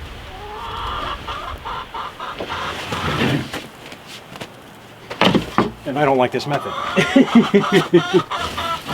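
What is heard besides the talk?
chickens clucking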